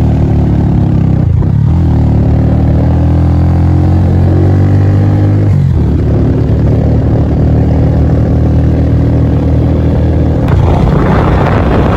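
A motorcycle engine drones steadily during a ride between barangays in Jose Abad Santos, Davao Occidental, loud and close with a constant hum and brief shifts in pitch, with no voices over it.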